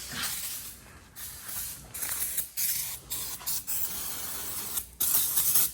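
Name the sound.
brake cleaner being sprayed on engine parts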